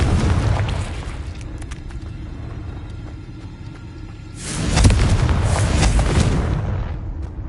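The Confringo spell bursts in the video game Hogwarts Legacy as a deep rumbling explosion, with a booming low roll that fades before a second, louder blast swells and then trails away.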